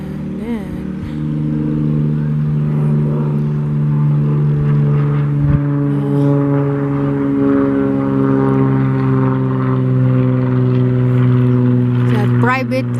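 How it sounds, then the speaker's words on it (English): A private propeller airplane passes high over a quiet park in Washington, its steady droning hum holding loud and even for the whole stretch as a voice talks over it. "It's a private airplane that rich people fly high."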